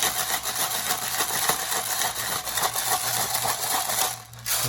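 A pepper grinder cracks ground pepper over guacamole with a close, continuous rasping crunch, slightly uneven in rhythm, before a short pause near the end.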